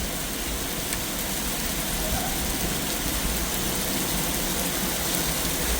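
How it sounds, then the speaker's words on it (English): Heavy rain with hail mixed in pours down during a severe summer thunderstorm in Montreal, a dense, steady roar of drops striking the ground throughout, loud and close with no pauses. "there's some hail mixed in with this rain"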